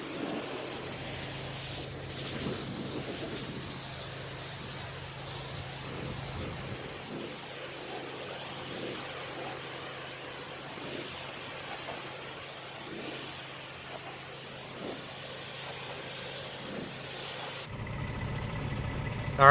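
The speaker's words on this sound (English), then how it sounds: "we're going to rinse it off with a power sprayer at a light setting" A power washer on a light setting rinses an iron stain off a fence, a steady broad hiss of spraying water running continuously before cutting off near the end.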